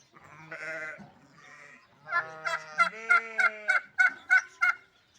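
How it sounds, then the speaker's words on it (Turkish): Turkeys gobble in a quick run of loud, warbling bursts on a farm, preceded by softer bleating-like calls from nearby sheep. "Hindiler, koyunlar."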